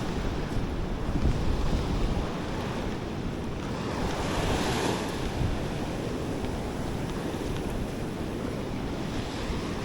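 Ocean surf and wind along the coast at Toco, a steady wash of waves with gusty wind buffeting the microphone, continuous and fairly loud with no one talking.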